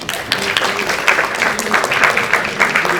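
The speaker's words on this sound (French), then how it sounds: "Vous pouvez l'applaudir." A crowd at an eloquence contest applauds steadily throughout, a dense wash of many hands clapping with no pauses.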